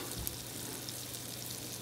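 Steady, dense sizzling of eggs frying in a small pan at a campsite, a continuous crackle at close range with no talking.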